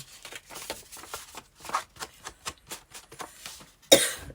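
A rapid run of repeated coughs, close and rhythmic, ending with one sharper, louder cough.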